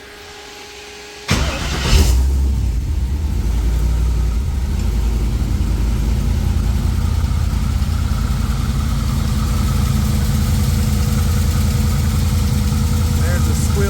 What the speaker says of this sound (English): You hear some lifter noise.